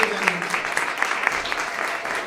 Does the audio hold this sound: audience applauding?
yes